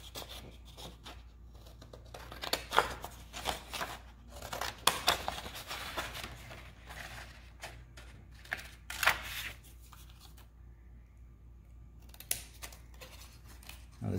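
Scissors snip through paper while a paper shape is cut out, producing quiet, close, irregular clips and crisp rustles, with occasional louder snips and brief pauses.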